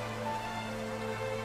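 Steady rain falling, a constant even hiss with a low hum beneath, moderately faint and unbroken, no voices.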